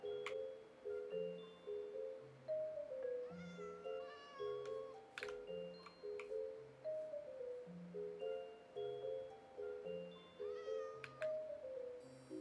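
A cat meows repeatedly and clearly in Minecraft, its short calls spaced over a soft looping background melody with gentle plucked notes.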